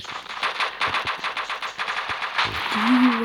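Rapid bursts of automatic gunfire in an online shooter video game, a fast rattling stream of shots that pauses briefly and resumes, with a faint tone and a little background noise near the end.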